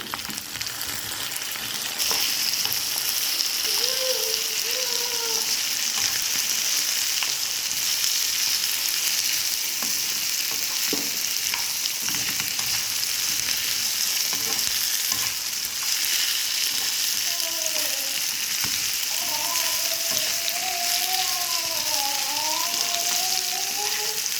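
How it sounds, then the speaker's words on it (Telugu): Potatoes fry with curry leaves in a pan, a steady loud sizzle running throughout, with occasional scrapes and clinks as the mixture is stirred. "మనం వీటిని మధ్య మధ్యలో కలుపుకుంటూ ఉండాలి."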